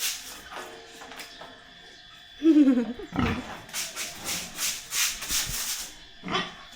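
A pigpen floor scrubbed with soap: rhythmic bristle rubbing strokes in repeated close bursts, with a short grunt or squeal from a pig partway through.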